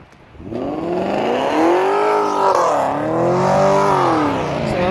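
A BMW engine revs loudly and steadily as it passes close by, pitch rising and dipping, with no voices.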